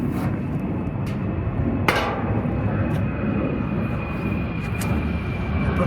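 A fixed-wing airplane passes overhead near RDU International Airport, its broad engine roar steady and loud throughout, with a few brief knocks and taps nearby.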